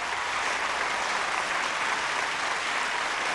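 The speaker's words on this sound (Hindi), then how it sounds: "एक बार तेरिया के पापा के लिए जोरदार तालियां." A studio audience at a televised kids' dance competition grand finale gives loud, continuous applause, dense and even throughout.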